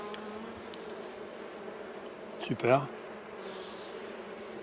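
Honeybees buzz steadily at an open hive during a frame inspection, a soft continuous hum under brief close rustling and a short spoken word.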